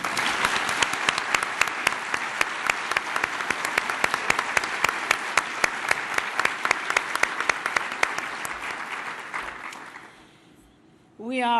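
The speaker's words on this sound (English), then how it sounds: "Executive Directors and Chief Executive Officers are now for you to be applauded." An audience at a nurses' association gathering applauds executive directors and chief executive officers, a long, steady round of many hands with sharp individual claps, fading out near the end before a voice begins to speak.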